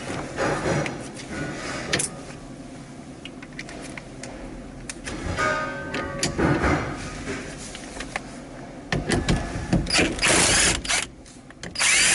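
A ratchet clicks while the old nut comes off a Ford Mustang Mach 1 turn signal switch, with bursts of mechanical clicking and rattling close up over a background hum.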